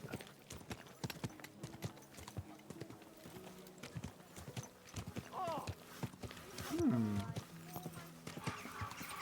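Horse hooves clip-clopping at a steady walking pace through a town in Kingdom Come: Deliverance 2, with a whinny partway through and someone talking over the hoofbeats.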